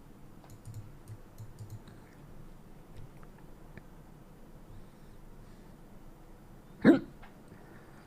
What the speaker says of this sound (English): Or hiccup.